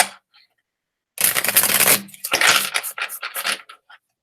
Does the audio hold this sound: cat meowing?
no